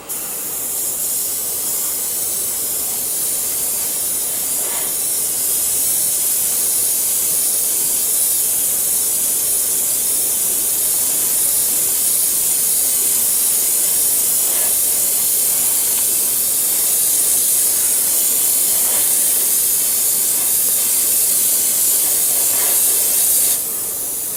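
An airbrush mists pale orange paint onto a figure with a loud, continuous hiss of spraying air that holds steady the whole time, with no talking.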